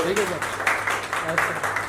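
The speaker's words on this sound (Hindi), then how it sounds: "ये तालियां बजाते रहिए, वो भी मुस्कुराहट के साथ।" Audience at a Bollywood film muhurat event in Mumbai applauds a production designer, steady bursts of clapping with someone speaking over them throughout.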